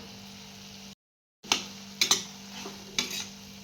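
Sprouted matki usal with coriander is stirred in a pan, a spoon clinking and scraping against metal in several sharp knocks after a brief gap of silence, with a faint sizzle underneath.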